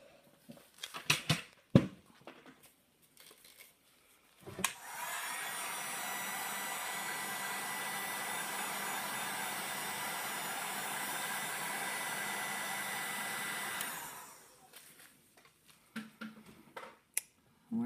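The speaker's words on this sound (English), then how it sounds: "Let me get my heat gun." A heat gun blows hot air over wet paint during an analogous-color painting experiment. After a few soft clicks and handling noises, a steady whooshing roar runs for about nine seconds, then cuts off.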